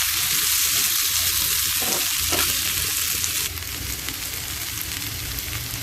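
Drumsticks and potatoes fry in a pan for a fish curry. They sizzle loudly and continuously with an occasional stir, and the hiss drops noticeably softer about halfway through. No one speaks.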